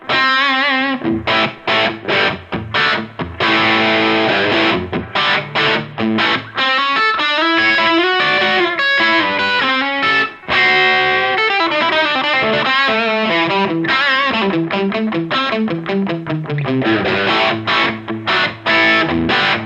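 Electric guitar played through a Red Seven Amplification pedal set to low gain with hard clipping, giving a continuous, loud, distorted tone with chords and single-note runs and no talking.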